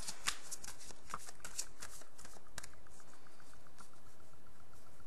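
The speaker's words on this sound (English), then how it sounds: "I'm then going to shuffle." Tarot cards being shuffled with rapid, papery riffling and flicking, fairly close and continuous, no voices.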